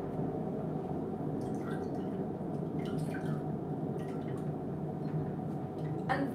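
A lemon is squeezed into a half-water, half-vinegar cleaning mix, giving close, soft drips and wet squishing in small irregular bursts over a steady low background hum.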